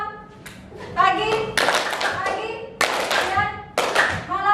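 Rhythmic hand clapping from a group of high school students in a classroom clapping game, coming in short bursts of several quick claps each, with children's voices calling out between the rounds.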